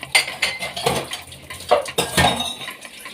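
A metal spoon stirs food in a cooking pot, giving a series of irregular scraping clinks and knocks against the pot, close and fairly loud, with no talking.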